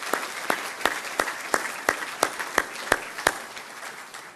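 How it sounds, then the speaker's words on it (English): A dinner audience at an annual banquet applauds its sponsors, with a spread of steady clapping and sharp individual claps standing out in the room. The applause runs throughout at moderate volume and tapers off near the end, with no talking. "Please join me in giving all of our sponsors a round of applause."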